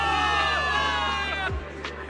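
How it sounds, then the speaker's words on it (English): A crowd of soldiers in the video game Zenless Zone Zero cheers loudly for victory in the city of New Eridu, a dense sustained roar of voices with layered music or tones beneath, dipping briefly near the end. "Give it up for yourselves, soldiers! Cheer for victory!"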